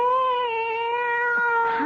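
A cat in a radio drama gives a long, sustained meow, steady and fairly loud, rising into a sharper, higher cry at the end, close up with no talking over it.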